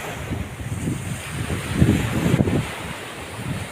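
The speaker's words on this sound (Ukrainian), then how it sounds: "Ось тут вільний пляж." Surf washing onto a wide public beach on the Tuscan coast of Italy, with gusting wind buffeting the microphone; steady, loud rolling waves with no talking.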